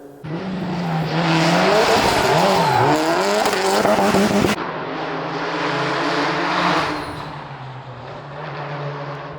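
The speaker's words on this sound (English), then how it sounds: "We can actually hear the car pretty much all the way up to the top." A rally car engine revs and changes pitch repeatedly on a closed road in the Italian Alps, rising and falling as it accelerates uphill, then continues more faintly, sounding somewhat distant and unaccompanied by voices.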